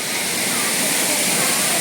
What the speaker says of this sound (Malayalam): അപ്പോൾ ഇതാണ് വെള്ളച്ചാട്ടം.